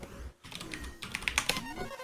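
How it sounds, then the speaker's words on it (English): Rapid clicking keystrokes on a computer keyboard, close and fairly quiet, with a brief pause before a quicker burst of taps beneath faint game sounds. "you will probably hear me typing some stuff on my keyboard"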